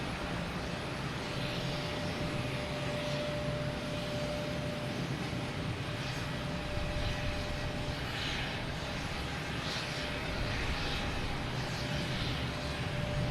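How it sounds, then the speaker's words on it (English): A JetBlue Embraer E190 jet arrives at Boston Logan, a moderate, steady engine rumble and hiss held at a distance with little change. "next to arrive, we have JetBlue coming from Cleveland, E190"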